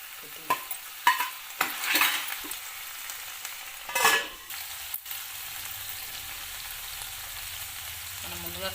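Onions frying in oil for a ridge gourd and tomato curry, with several sharp scrapes and clatters of a spoon stirring early on, then a quieter steady sizzle, with no talk.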